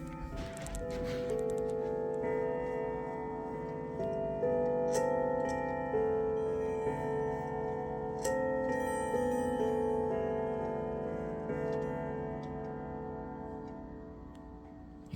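A new Howard Miller grandfather clock ticking steadily at close range, each tick clear over a sustained ringing chime tone that hums and decays throughout, with a few sharper metallic strikes.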